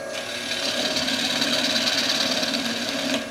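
Wood turning on a lathe, the tool peeling off very fine shavings in a steady, close scraping whir that holds evenly for a few seconds, with no talking.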